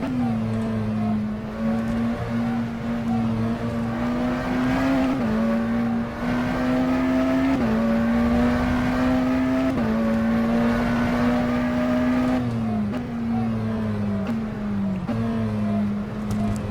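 A McLaren Senna GTR race car in the rFactor 2 racing simulator holds a loud, droning engine note at high speed that climbs steadily, with a brief dip at each of several upshifts, and no voices over it.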